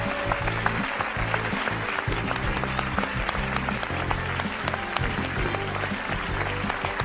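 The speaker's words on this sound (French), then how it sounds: "je vous demande de l'applaudir bien fort" Audience applause in a studio as a sleep-advice guest is welcomed, dense sustained clapping at steady loudness throughout, with faint talk underneath.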